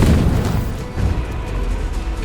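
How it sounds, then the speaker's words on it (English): A grenade explodes in Resident Evil 3 Remake, a loud, close blast followed by a heavy low rumble that rolls on and slowly settles, with no talking. "The explosion behind him, for example, can bring him down quite easily"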